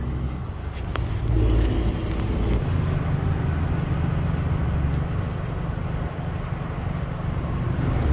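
Lexus GX460 overland build rolling along with a steady low engine drone and rumble, continuous and fairly loud with some wind buffeting, no one talking.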